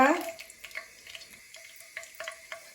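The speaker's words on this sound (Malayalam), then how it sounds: "തക്കോലം പട്ട ഗ്രാമ്പു ഇതൊക്കെ ഒന്ന് ജസ്റ്റ് ഒന്ന് ഫ്രൈ ചെയ്തെടുക്കുവാണ്" Whole spices, cardamom, star anise, cinnamon and cloves, frying in hot oil for a mutton stew, with a brief burst of sizzle at the drop followed by soft crackles and light stirring taps.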